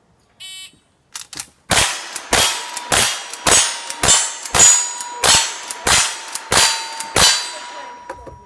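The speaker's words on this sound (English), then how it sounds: "Shotgun, yep." Shotgun shots striking steel targets at a cowboy action shooting match, a loud, evenly spaced series of about ten sharp ringing clangs, each with a metallic ring-out, and no voices.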